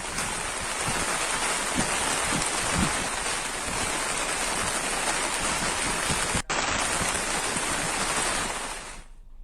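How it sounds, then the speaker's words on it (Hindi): Dense, steady downpour of heavy monsoon rain in the mountains of Uttarakhand, India, hissing continuously, with occasional louder splashes and drips close by; no voices. "पहाड़ों में लगातार बारिश का दौर जारी है।"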